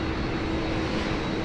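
Boeing 747 engines roaring at Sydney Airport in heavy rain, a steady, dense, continuous rumble without any pauses or talk.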